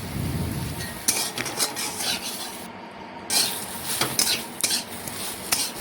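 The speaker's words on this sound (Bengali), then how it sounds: "এটাও ভালোভাবে নাড়াচাড়া করে সয়াবিনের সাথে মিশিয়ে নিচ্ছি" A spatula scrapes and stirs soybean chunks in a cooking pan, making repeated rasping strokes at an uneven rhythm. A faint sizzle sits underneath, close up, with no talking.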